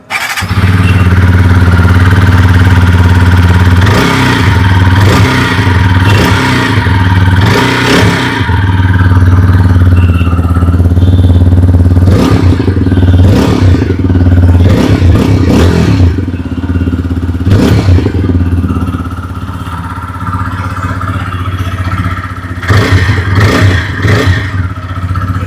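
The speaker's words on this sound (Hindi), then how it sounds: "अभी सुन लेते हैं 164V की एग्जॉस्ट नोट।" A 2025 TVS Apache RTR 160 4V motorcycle idles loudly up close, then blips its exhaust in a series of sharp revs, settling back to idle between bursts.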